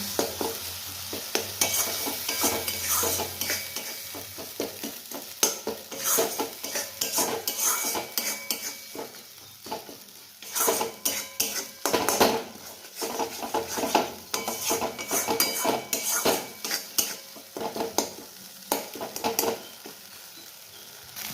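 Potato curry being sautéed with ginger paste and homemade spice mix. A steady sizzle sits under busy, repeated scraping and clinking of a spatula against the pan, close and fairly loud, with no talking.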